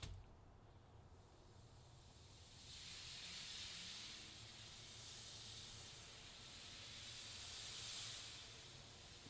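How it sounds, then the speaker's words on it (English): Steam hisses steadily from a hot rag laid on redwood being bent, a broad continuous rushing sound that grows louder after a few seconds and pulses gently, with no talk. "introduce a lot of steam"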